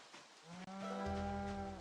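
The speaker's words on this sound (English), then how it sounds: "Okay, that was a moo noise, not a zombie noise." A cow moos in the video game Project Zomboid, one long, loud, close low moo that rises and holds steady with no talk over it.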